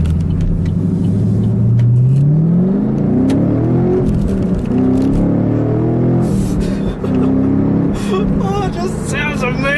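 A Chevrolet Camaro's engine revs hard under acceleration, its pitch climbing steadily through a gear before settling into a loud, sustained roar heard from inside the car, with a voice joining near the end.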